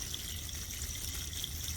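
Water pouring steadily into a box of Safe-t-sorb aquarium substrate to charge it, a continuous close gushing fill like a running tap with no pauses.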